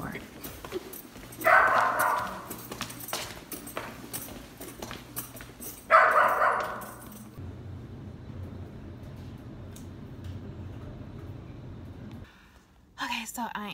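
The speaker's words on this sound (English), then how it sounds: "this dog barks every time I walk by its door" A dog barks in two loud bursts a few seconds apart, fairly close, with footsteps and ambient noise between and a quieter stretch afterward.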